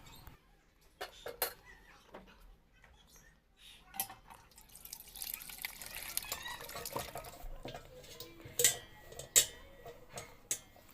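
Whey drips from freshly made paneer tied in a muslin or cotton cloth over a strainer, with scattered irregular drips and small splashes, close and fairly quiet, with no talking.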